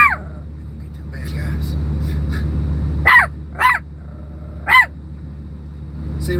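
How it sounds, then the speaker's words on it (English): A Chihuahua barks inside a truck, with several sharp, high yips spaced across the clip over a low steady engine rumble, close and fairly loud, with a voice speaking between barks. "he looks like he's acting like the typical Chihuahua with barks and everything"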